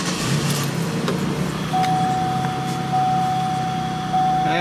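A vehicle engine idles with its mass airflow sensor unplugged, giving a steady low rumble with a thin, constant whine and no clear stall or silence within the span.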